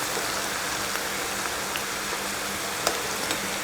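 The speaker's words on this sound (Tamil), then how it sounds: "நம்ம இப்படி கலக்கிறப்ப வர சவுண்டுலேயே தெரியுது நல்லா மொறுமொறுன்னு இருக்குன்னு" Potato kurkure snacks sizzle loudly in hot oil as they are stirred, a dense, steady crackling hiss with a few sharp scrapes and clicks near the end.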